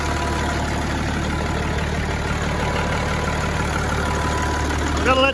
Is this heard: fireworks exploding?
no